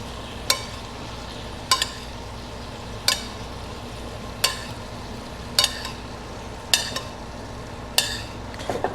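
Salmon frying skin side down in butter in a metal pan, a soft steady sizzle underneath with eight sharp metallic clicks of a spoon basting against the pan at roughly even intervals, close by, with no talk.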